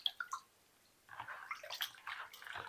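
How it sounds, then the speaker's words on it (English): Chicken wings rinsed under running cold water, a faint splashing trickle after a few soft drips and a brief pause, quiet and close with no talk. "So we're just gonna rinse it off with some cold water."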